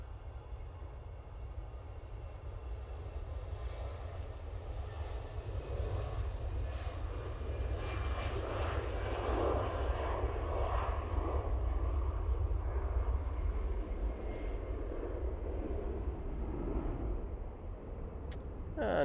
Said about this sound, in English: Speaking of Aer Lingus, got another one now departing back to Dublin.